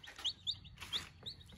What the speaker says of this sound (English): We just added our 5 new baby chicks.